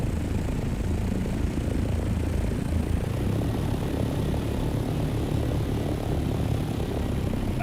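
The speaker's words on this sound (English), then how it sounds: "That's an assault copter, I'm pretty positive." An assault helicopter in a video game makes a continuous, dense rumbling roar of rotor and engine that holds steady at moderate loudness throughout, with no voices over it.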